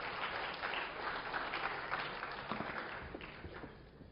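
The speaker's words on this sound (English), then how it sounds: "All right, so round of applause again." A classroom of students applauds after a lecture game, steady dense clapping that holds for several seconds and thins slightly toward the end, fairly close and moderately loud.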